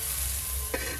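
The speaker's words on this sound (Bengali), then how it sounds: "তেতোর জন্য বেগুনগুলোও ভালো করে ভেজে নেব।" Brinjal pieces frying in oil with turmeric powder for a bitter-style dish, a dense, steady close sizzle with a brief scrape near the end.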